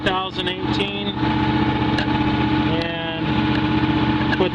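A Miller Legend 302 welder generator's engine idles steadily, a constant engine drone with harmonic hum that carries throughout, with someone talking over it.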